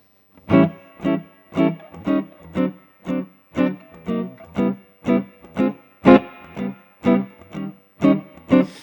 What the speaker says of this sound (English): he invented a style of rhythm guitar where he plays quarter notes.